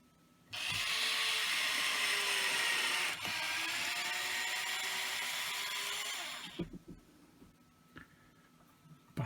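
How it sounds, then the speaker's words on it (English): A mini drill with a 2mm bit boring a hole in wood, a loud steady high whine for about six seconds with a brief dip partway, then stopping with a few light clicks and taps. "I've got like a 2mm drill bit in this mini drill thing. Drill a hole."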